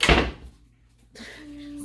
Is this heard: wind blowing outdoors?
no